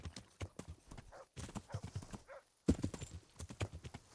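Horse hooves clip-clop at a steady trotting rhythm in a video game, fairly close and clear, with a continuous run of hoofbeats and a slight surge in loudness near the end.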